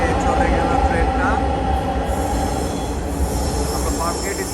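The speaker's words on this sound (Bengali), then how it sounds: "এই যে চলে গেল ট্রেনটা।" A metro train passes through Farmgate station in Dhaka, heading toward Motijheel, with a close rolling rumble and a faint wheel squeal, steady throughout the few seconds.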